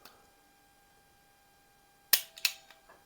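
A BB pistol, a Daisy 188 or Healthways Plainsman 9401 with a valve in need of work, fires at a target: two sharp, close cracks about a third of a second apart, each trailing a brief rattle, over a quiet room tone.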